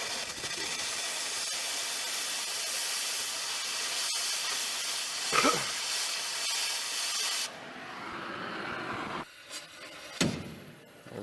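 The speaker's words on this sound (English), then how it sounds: "We are currently torching a bolt directly below the fuel tank." A torch heating a bolt directly below a fuel tank gives a loud, steady roaring hiss that runs for several seconds. It then cuts off into quieter scraping and a few sharp hissing bursts.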